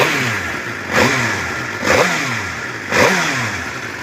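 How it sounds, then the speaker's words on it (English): A stock 2011 Suzuki GSX-R 750 motorcycle with a fuel-injected 750cc inline-four revs three times from idle, each sharp throttle blip rising and falling back, close and loud. "This bike has a 750cc inline 4-cylinder fuel injected engine, 6-speed transmission."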